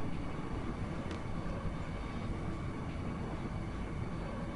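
Steady low rumble of a train ride in Final Fantasy 8, a continuous rolling rail noise with a faint clack or two, constant and moderately loud with no talking.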